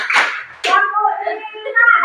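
Children in an Indonesian classroom doing a counting clap game: a couple of sharp hand claps near the start, followed by a voice chanting the count.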